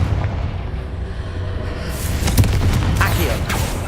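A Confringo blasting spell explodes in Hogwarts Legacy, a loud, rumbling fiery boom that swells after about two seconds into several cracking bursts over low, steady game ambience.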